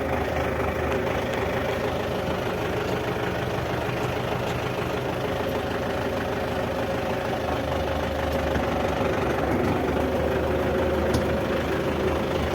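A new MTZ 82.1 tractor engine idles steadily with a low, knocking rumble, close by and constant, with no voices over it.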